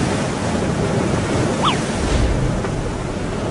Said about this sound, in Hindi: बाढ़ का पानी बढ़ रहा है।